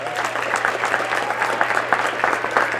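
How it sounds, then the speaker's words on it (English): A school graduation audience applauds student place winners, steady dense clapping filling the room without pause, with faint background voices. "Could we have one more round of applause for our first,"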